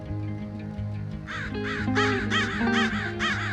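Several crows caw in repeated harsh calls, fairly close, over a steady musical drone underneath.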